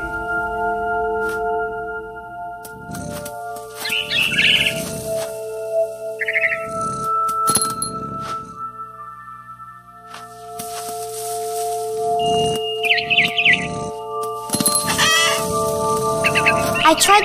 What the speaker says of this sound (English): I heard chirping outside my window. It was a barn swallow going back to her nest.